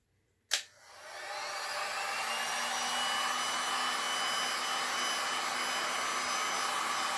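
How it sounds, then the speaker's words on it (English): A heat gun clicks on and settles into a steady, even blowing roar with a faint high whine, held close over a resin painting surface for several seconds, no voices. "And now I'm going to grab my heat gun."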